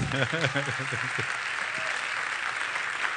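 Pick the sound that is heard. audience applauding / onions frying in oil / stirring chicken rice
audience applauding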